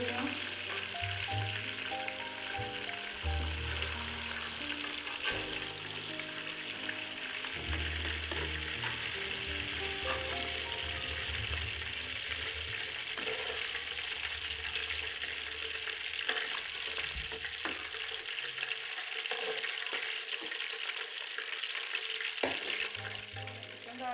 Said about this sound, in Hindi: चिकन जो है इसी मैंने घी में फ्राई कर लिया है